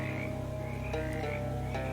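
Frogs croak in the video game Shadows Over Loathing, a steady, fast rhythmic pulsing of low croaks over a droning game ambience, with a few brighter chirps breaking through; no one speaks.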